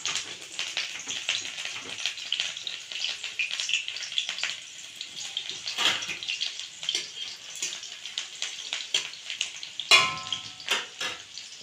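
Green chillies frying in hot oil in a kadai give a steady, close crackling sizzle with bursts of sharp pops and spits throughout, with no voices.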